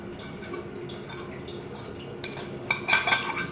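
Warm jaggery syrup poured into raw mango pickle masala and stirred, with soft liquid trickling and a few light metal scrapes and clinks of a spoon against the bowl toward the end, close and fairly quiet.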